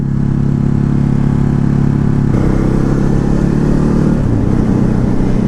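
A 2019 Ducati Hypermotard 950 ridden on the road, its mid-pitched engine droning loudly and steadily, with a shift in tone partway through as the revs change. No one speaks.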